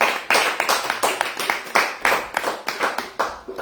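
A church congregation claps loudly in an irregular burst of overlapping handclaps, with rhythmic surges, acclaiming Jesus during a deliverance service.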